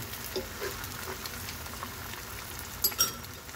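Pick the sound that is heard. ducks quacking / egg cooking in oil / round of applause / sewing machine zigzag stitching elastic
egg cooking in oil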